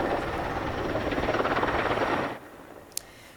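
A firefighting helicopter over a wildfire on the edge of Athens gives a steady, loud, pulsing rotor chop that cuts off abruptly, followed by near quiet and a single faint click.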